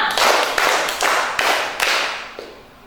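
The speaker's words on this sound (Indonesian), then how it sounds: "Tepuk lima." Five unison claps come from a group of children playing a counting clap game in class. They land in an even, brisk rhythm, and a faint stray clap follows.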